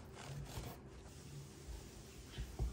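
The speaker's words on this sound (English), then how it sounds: "We wanna cut against the grain, and we're gonna go about 1/4-inch slices like this." A knife saws through grilled chicken against the grain into quarter-inch slices, giving a soft, faint rasping and rubbing on a board with a few light knocks near the end. No one speaks.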